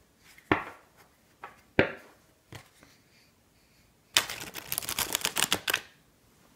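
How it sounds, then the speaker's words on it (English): Tarot cards being riffle shuffled by hand, a few sharp taps of the deck squared on a surface, then a dense fluttering burst of cards dropping and interleaving up close for about a second and a half. "I'm going to shuffle them, I'm going to push them together."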